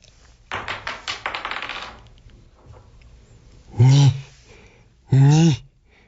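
Dice are thrown and tumble in a quick rattle of clicks lasting over a second, then fade out. Two loud, voiced exclamations follow shortly after.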